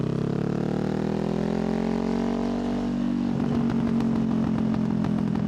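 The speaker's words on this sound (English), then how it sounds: "Listen to that exhaust growl, man." Motorcycle fitted with an aftermarket Yoshimura exhaust, revving up with a rising, growling engine note that settles into a loud, steady rattling idle, close by and with no talking.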